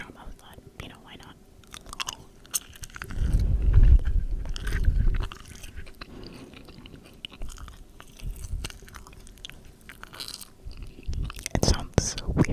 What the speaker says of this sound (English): If you do not like gum chewing, I am very sorry.